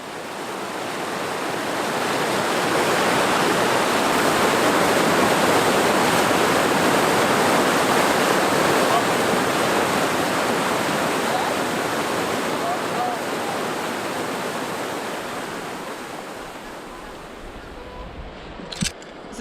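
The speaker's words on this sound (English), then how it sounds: "Sounds like some rapids" River rapids on the Mississagi at low water roar as a steady, broad rush of whitewater, continuous and fairly close throughout, easing slightly toward the end with a brief knock at the finish.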